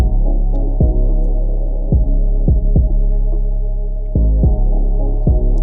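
Fast hip-hop beat at 215 BPM: heavy booming bass and a sustained low drone, with sharp kick hits recurring at a quick, steady rhythm, loud and close with no voices.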